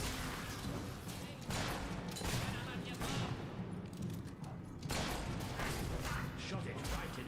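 Rapid bursts of gunfire in Fable 3, loud clustered shots and thuds repeating every second or so across several seconds, with game noise and voices underneath.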